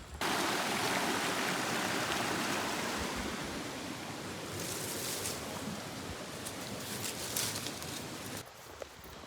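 Water rushes steadily at the washboard spring beside a hiking trail on the Pinhoti Trail, a loud, close, continuous flowing hiss with a few brief knocks and footsteps near the end.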